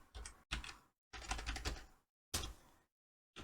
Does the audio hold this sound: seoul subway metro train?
no